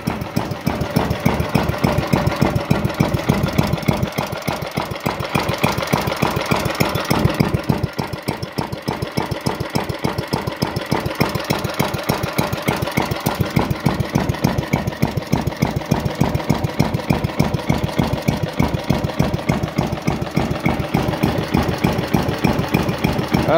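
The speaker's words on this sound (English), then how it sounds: "Only a real good engine can idle that, like, tick over like that." A Kubota GS 160 engine idles steadily after repair, a close, even, rapid ticking thump that holds a constant rhythm throughout with no voices.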